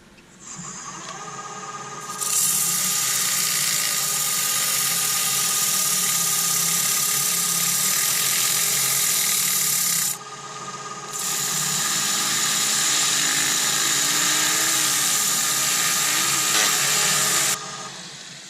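A wooden mortar for a mortar and pestle spins on a woodturning lathe while 120 grit abrasive is pressed to its outside. It makes a steady, loud rasping hiss over the lathe's hum, with a short break midway before sanding resumes.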